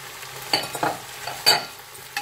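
Chicken with pepper, ginger and garlic stirred in a pan, giving a soft scraping stir with a few sharper utensil strikes over a low background sizzle; near and fairly quiet, no talk.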